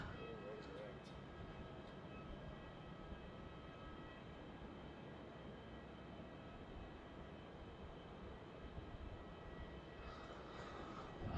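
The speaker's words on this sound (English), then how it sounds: "This Emirates A380." An Emirates Airbus A380 at night at Melbourne Airport gives a steady, broad engine roar that stays constant throughout, distant to moderately loud, with faint voices in the background.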